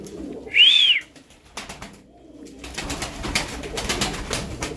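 Tumbler pigeons being fed give one short, clear coo-like call near the start, followed by low shuffling and scattered wing or feeding noise.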